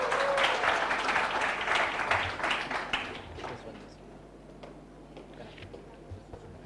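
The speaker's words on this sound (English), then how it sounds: "A round of applause for them," Audience applause for a student presentation in a class hall, a burst of many hands clapping for about three seconds that fades into sparse claps and room noise.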